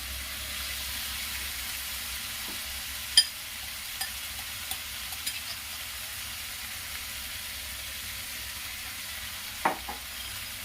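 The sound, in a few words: marinated soya keema added to hot pan, frying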